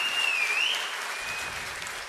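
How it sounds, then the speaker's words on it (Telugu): Audience applause at a book launch event for the book Vidhwamsam, a steady wash of clapping from a crowd, moderately loud and continuous, with a faint tone sliding above it. "గట్టిగా చప్పట్లు కూడా అందరూ అభినందించాల్సిందిగా కోరుతున్నాం."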